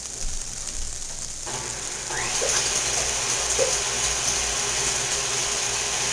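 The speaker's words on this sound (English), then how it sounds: "start whipping our egg whites" A stand mixer begins whipping egg whites after a quiet start, settling into a steady mechanical whir that carries on close by for several seconds with no talk.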